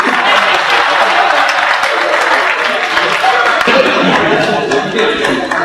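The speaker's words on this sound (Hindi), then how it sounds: "आप इस पे ताली बजा सकते थे।" Audience at a comic Urdu mushaira claps steadily and fairly loudly throughout, a dense continuous applause with a few heavier thumps mixed in.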